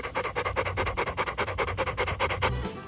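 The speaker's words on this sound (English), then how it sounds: "he is also the world's loudest mouth breather" A dog named Rigby breathes loudly through an open mouth on a farm, panting in quick, rhythmic, close-up huffs that keep up an even pace for a few seconds before trailing off.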